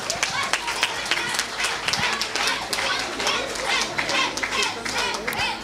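Applause from a church Christmas carol gathering: a crowd claps in a scattered, ongoing patter of hand claps while voices chatter and someone speaks underneath.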